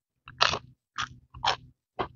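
Thin, very crisp potato chips bitten four times in quick succession, each a sharp close crunch with brief silence between, no talking.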